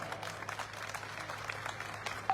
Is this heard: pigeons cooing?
no